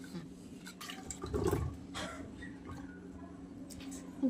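Medium-sized potatoes being washed in water in a home kitchen, with soft splashing, dripping and sloshing sounds. A louder splash comes near the middle, over a faint background.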